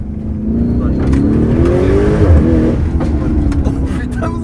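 A Lamborghini Urus Mansory tuned to 745 hp revs hard and close, its engine note rising and falling steadily throughout while people talk over it.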